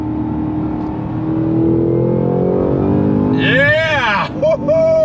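A 2022 Cadillac CT5-V Blackwing's engine pulls hard on throttle, its loud, close growl climbing steadily in pitch, then a driver's excited voice cuts in over the engine near the end.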